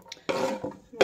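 Chopped carrots and parsley are tossed into a soup pot in a quick clattering tumble, with a short rattle of vegetables against the metal pot and a second brief knock at the end, close and fairly loud.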